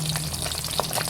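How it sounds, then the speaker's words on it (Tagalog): Fish fries in oil in a pan, giving a continuous close crackling sizzle with scattered pops throughout. "bali nakasalang na po itong isda"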